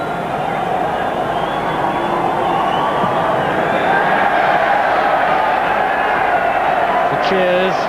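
Football crowd roaring at Villa Park during the 1983 Super Cup Final between Aston Villa and Barcelona, a dense sustained cheer filling the stadium while a commentator talks over it.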